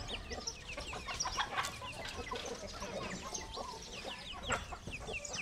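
Chickens cluck and chatter in a busy flock on a small farm, overlapping calls steady and close throughout with an occasional sharper squawk.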